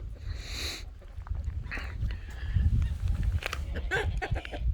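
Young turkey poults calling in a farmyard, a few thin high peeps and chirps scattered among low rustling and handling noise, with roosters kept nearby.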